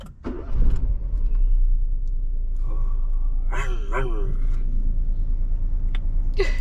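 A 2021 Citroën C3 engine starts and settles into a low, steady idle rumble from inside the car, with brief voices and small cabin noises over it.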